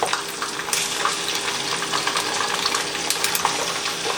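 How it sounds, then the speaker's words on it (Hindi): Chicken pieces fry in a small frying pan, a steady close sizzle and crackle with small pops scattered throughout and no voices. "अब चिकन को मैं, ये फ्राई पैन जो है ना छोटा है, तो थोड़ी थोड़ी करके मैं इसको तल लूँगी"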